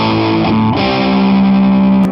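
A Zemaitis GZW500HB electric guitar plays through heavy distortion, a loud, thick sustained chord that shifts pitch once and rings out for about two seconds.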